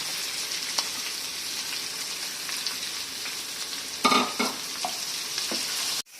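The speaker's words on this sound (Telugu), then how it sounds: "ఈ 3 కలిపేసి ఫ్రై చేసుకుందాం" Onions, green chillies and curry leaves fry for a mushroom masala curry, giving a constant bright sizzle with a few stirring scrapes and clatters midway before it cuts off abruptly.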